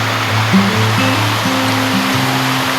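Steady rushing water flows into a dam continuously with a constant broadband roar and a low hum underneath, fairly loud and close.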